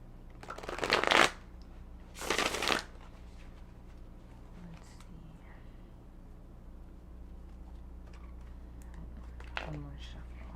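Tarot cards are shuffled in two quick riffling bursts, close and crisp, followed by quiet room tone with a few faint taps.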